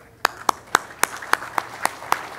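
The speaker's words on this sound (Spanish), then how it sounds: "le voy a dar el pase a nuestro gerente académico Esenati Senati para quien pide unos fuertes, aplausos" Hand claps at a conference on digital transformation in industry, eight sharp separate claps at a steady rhythm, close and moderately loud over a quiet room.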